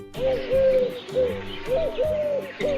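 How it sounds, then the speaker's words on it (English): A pigeon coos near a house with a swing, giving a series of soft, hooting calls in close succession, loud and clear with no talk. "a pigeon is flying over the house."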